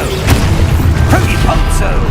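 A Confringo spell blast in Hogwarts Legacy: a loud, dense, continuous booming burst filling the whole moment, with spell-casting voices shouted over it.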